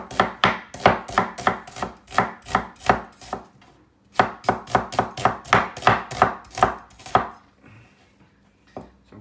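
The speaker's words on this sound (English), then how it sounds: "Chop the onions" Onions are chopped finely on a board for egg biryani, a quick run of sharp, close knife strikes in two rhythmic bursts separated by a short pause, with no voices.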